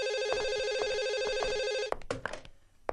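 A telephone rings with a steady warbling electronic trill in quick repeated pulses, loud and close, then stops abruptly as the receiver is handled with a few clattering knocks.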